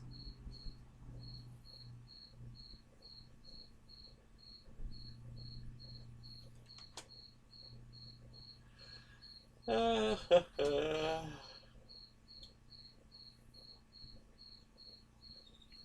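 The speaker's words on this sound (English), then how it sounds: "There is a cricket in here now." A cricket chirping indoors, a faint, regular train of thin pulses running the whole time, with a brief burst of talk in the middle.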